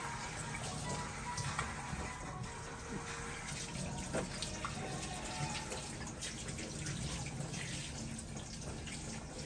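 Tap water runs steadily while food is washed by hand for a Cambodian and Vietnamese meal, a continuous soft splashing stream with faint clatters and handling noises, fairly quiet.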